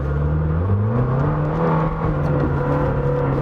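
A 920-horsepower Lamborghini Temerario pulls hard at full throttle, its engine note climbing steadily and loudly from inside the cabin with no talk over it.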